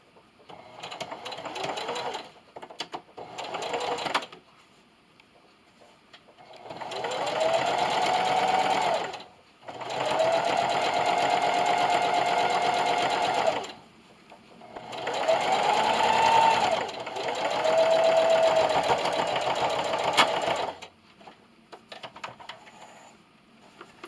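A sewing machine top-stitches a Christmas stocking with a straight stitch in several loud, close bursts of steady whirring, each lasting a few seconds and separated by short pauses with light handling noise.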